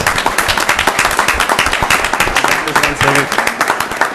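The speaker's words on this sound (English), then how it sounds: "Let's give them a round of applause." Loud, close applause fills the room for newly sworn-in youth city council members at a city council meeting, brisk rhythmic clapping with a voice briefly audible partway through.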